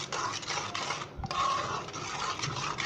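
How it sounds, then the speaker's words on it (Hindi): A spoon stirs a coriander and green chili paste into the dahi bhalle mixture, making soft repeated rubbing and scraping strokes against a bowl, close and quiet, with one brief low knock midway. "और अच्छे तरीके से इसे मिक्स कर लें।"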